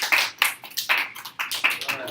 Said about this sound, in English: Let's give a round of applause for our lovely volunteers.